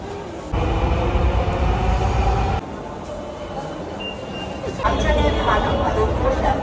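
A Dhaka metro train rumbles loudly at a station, its steady roar shifting in intensity as it runs, with crowd voices and chatter mixed in.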